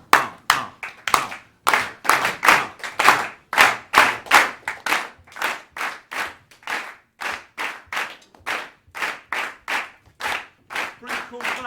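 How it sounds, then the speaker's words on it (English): A group claps a steady rhythm in 5/4, with sharp, evenly spaced hand claps in repeating five-beat cycles and accented groupings. The claps are loud and close, and the rhythm runs continuously with no talking. "Pretty cool clap in 5/4."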